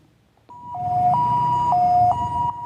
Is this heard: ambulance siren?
yes